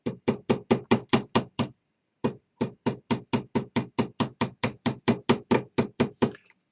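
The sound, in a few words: tapping a nail through a suction cup pin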